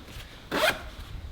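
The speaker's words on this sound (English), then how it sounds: "Close the zipper." A short zipper pull closing a utility vehicle seat cover, a quick rising rasp lasting a fraction of a second, close and fairly loud against a quiet background.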